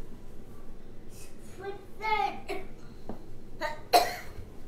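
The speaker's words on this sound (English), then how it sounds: "What you coughing for, bud?" A few short coughs, one sharp and loud near the end, with soft childish vocal sounds and quiet background noise.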